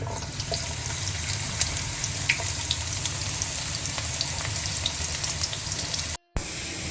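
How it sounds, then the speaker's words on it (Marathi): Finely chopped onion fries in hot ghee for a Mangalorean kube mutli (clam) dish, giving a steady, close, continuous sizzle and crackle with no talk, cutting off abruptly near the end. "तूप कडून येतना एक पियाव बारीक शिंदून ताका घालया."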